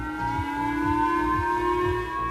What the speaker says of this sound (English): Sirens sounded, warning people to take cover as the missile passed overhead